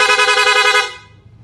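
A single sustained, rapid-fire buzzing blast from a newly installed horn on a Sniper 150 motorcycle, loud and close, holding for under a second before cutting off abruptly.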